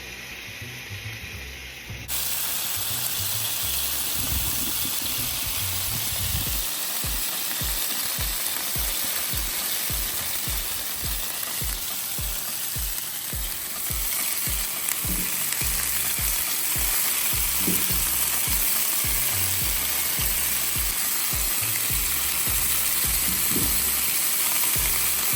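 Carne asada steak and onions frying on a hot griddle, a steady loud sizzle throughout with occasional scraping and stirring clicks from a spatula, no talking.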